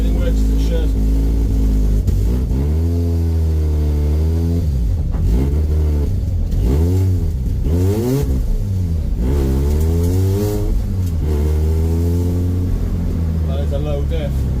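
Mazda RX-8 with a bridge-ported rotary engine and a 5.8 rear diff driving around an industrial estate, its loud, lumpy engine droning continuously and rising and falling in pitch with revs for the whole stretch.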